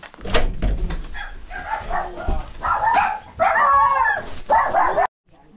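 Several dogs yip, whine and bark excitedly at close range in short overlapping bursts, with a thump near the start.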